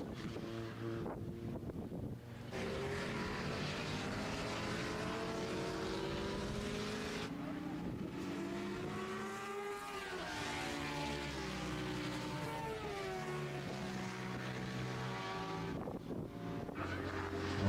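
JPS Norton and Ducati 888 racing motorcycles scream past on a classic bike track, engines rising and falling in pitch as they pass and shift gears, with wind buffeting the microphone throughout.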